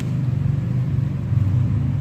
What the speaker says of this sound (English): Dual exhaust adds to the big bike look and sounds really nice